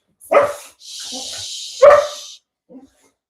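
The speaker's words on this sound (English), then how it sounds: "there's an epic dog fight going on behind me." Dogs fighting behind a person indoors, heard as two loud, sharp barks about a second and a half apart with a steady hissing noise between them, followed by a faint yip.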